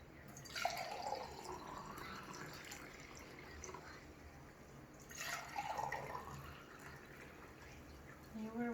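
Water pours from a quart container into pint containers, giving soft splashing and trickling fill sounds in two separate pours, faint and close, with no talking.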